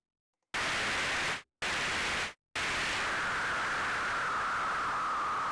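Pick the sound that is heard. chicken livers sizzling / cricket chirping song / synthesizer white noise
synthesizer white noise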